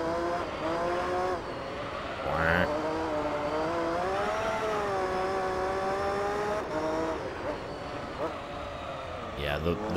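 A race car laps the Monaco street circuit in Gran Turismo 3, its engine note rising and falling steadily through gear changes with brief tire squeals, while someone talks over it.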